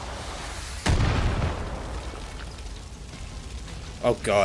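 Fire spreading in Far Cry 5 gives a loud burst of roaring rush that eases into a sustained crackling hiss. A voice exclaims over it near the end.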